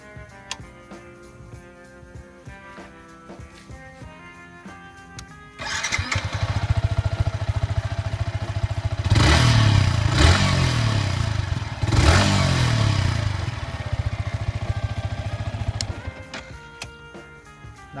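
A motorcycle engine is started and revved up twice in loud swells before settling back to a steady idle, with ticking mechanical sounds heard before and after the engine runs.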